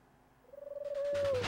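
Game birds in Spyro 2: Ripto's Rage give a rising, sustained whistling call, brief and fairly clear, followed by a burst of brighter game sound near the end.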